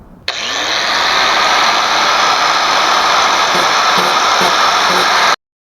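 A power tool grinds off a staple on a cracked plastic car bumper, starting abruptly and holding one steady, loud, close whine for about five seconds before cutting off, with no talking.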